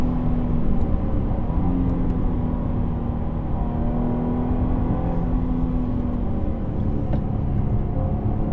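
A 2017 Jaguar XE 35t R-Sport's engine drones steadily and loudly from inside the cabin while being wound out, a continuous sustained hum with little change in pitch.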